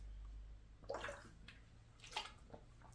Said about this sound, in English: Excuse me, I'm drinking some water.